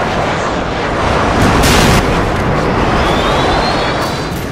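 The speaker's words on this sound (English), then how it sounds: "Friendly airstrike inbound." Heavy, loud explosions from a friendly airstrike in the video game Modern Warfare 2 rumble continuously, building to a peak in the middle and tapering off, with a faint jet whine near the end.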